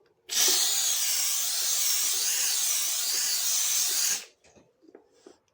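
A Laurastar IGGI steam sterilizer blasts a steady hissing jet of steam for about four seconds, loud and close, then cuts off abruptly, leaving faint handling noises behind.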